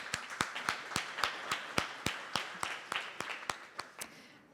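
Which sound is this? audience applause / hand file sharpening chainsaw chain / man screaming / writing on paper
audience applause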